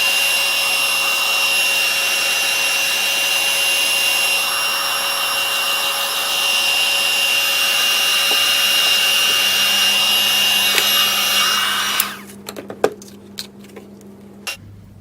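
A heat gun blows over painted craft background paper, a steady loud electric whine and whoosh with a high tonal hum that runs for about twelve seconds before cutting off, leaving a few faint clicks and handling taps.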